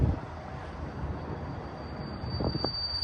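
A BNSF Z freight train led by five locomotives rolls eastbound on main track 1 at Lower Sworthout Crossing on the Cajon Subdivision, California, a steady continuous rumble with brief louder clanks near the end.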